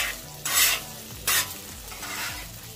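Shredded hash browns sizzle steadily in a hot pan while a utensil stirs and scrapes through them in two distinct bursts, all heard close up with no talking.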